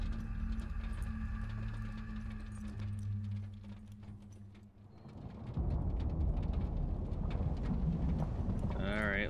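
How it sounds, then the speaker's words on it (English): Hail pelts down in a stormy mountain landscape in the video game Mundaun, a dense, continuous rattling and drumming that swells louder midway, over a low droning rumble, with no clear speech. "It's hailing rocks from the sky."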